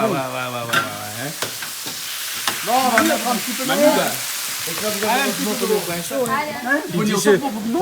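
Ingredients frying and being stirred in a pan for paella, a steady sizzle with scraping stirs running under almost continuous talk from several people.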